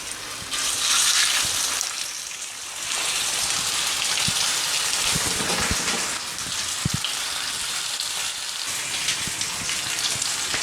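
Steak searing in avocado oil in a hot cast iron or carbon steel skillet, a loud, steady hissing sizzle like heavy rain with occasional pops and crackles throughout.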